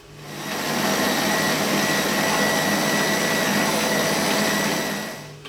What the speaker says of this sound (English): And then I'm just going to get that mixer on for about 60 seconds.